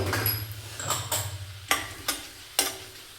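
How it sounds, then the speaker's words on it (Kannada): Chana dal and urad dal fry in a pan with a low sizzle. A spoon scrapes and clinks against the metal a few times in sharp, distinct strikes. No one speaks. "ಕಡಲೆಬೇಳೆ, ಉದ್ದಿನಬೇಳೆ ಇದೆಲ್ಲವನ್ನು ಸೇರಿಸಿ ಸ್ವಲ್ಪ ಕಲರ್ ಚೇಂಜ್ ಆಗೋವರೆಗೂ ಫ್ರೈ ಮಾಡ್ಕೊಳ್ಳೋಣ"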